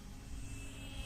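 An E-flite Extra 300 model aerobatic plane flies with a steady, continuous engine drone of moderate loudness, with no voices.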